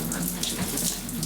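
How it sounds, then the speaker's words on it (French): Water runs steadily and loudly from a shower while hair is rinsed, a continuous broadband splashing hiss with no talking. "Je vais rincer ça et prendre une bonne douche."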